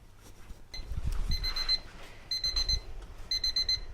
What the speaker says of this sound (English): that's our timer going off for our sprinkle cake